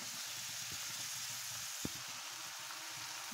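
Pointed gourd (potol) and potato frying in a pan, a soft, steady sizzle with a faint crackle and one brief clatter, no voices.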